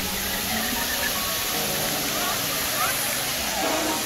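Broad rushing water of a river near the Gozalandia waterfalls in San Sebastián, a dense constant roar filling the scene, close and loud, with faint voices of visitors mixed underneath.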